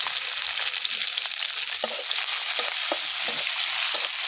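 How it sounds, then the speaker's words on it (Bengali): Onions and chilies frying in a pan with bay leaves for a vegetable bhaji, giving a steady close hiss of sizzling oil with occasional soft stirring clicks and no voices. "এখন পেঁয়াজ মরিচ ভেজে নেব"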